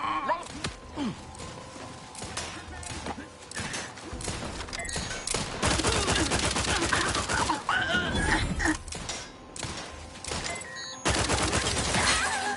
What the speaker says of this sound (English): Here, let's try out one of the new guns.